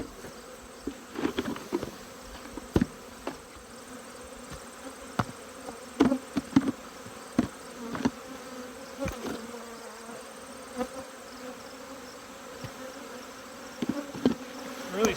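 Honey bees swarming in a yard after being shaken out of a hive, a steady faint buzzing hum with frequent sharp close passes and bumps of individual bees, no talking.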